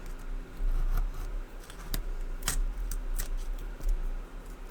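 Scissors snip off loose thread ends in a few quick, faint cuts over a low background hum.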